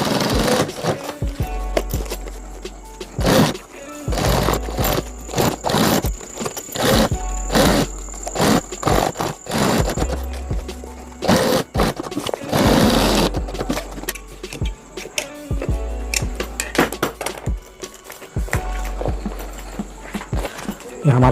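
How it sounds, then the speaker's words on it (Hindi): A sewing machine stitches a seam on a homemade travel bag, running in repeated rapid bursts of mechanical chatter separated by short pauses, with a person talking over it at times. "बस सीधा सिलाई करते जाना है"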